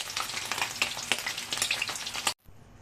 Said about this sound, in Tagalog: at i-prito natin saglit ang aking dalawang pata ng baboy